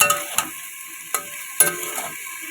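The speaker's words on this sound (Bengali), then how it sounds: "বেশি ভাজবো না, নাহলে না পনিরের টেস্টটা চলে যাবে আর কি" Paneer pieces frying in a pan with a light hiss, punctuated by a few brief clicking touches of a spatula, close and fairly quiet, with no talk.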